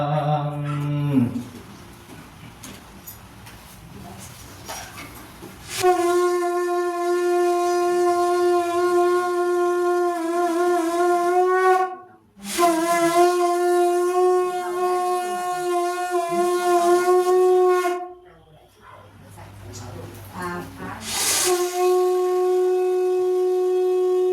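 A conch shell is blown in three long, steady, horn-like blasts, each held for several seconds with short pauses between, loud and close, at a Thai su khwan blessing ceremony for a pregnant woman.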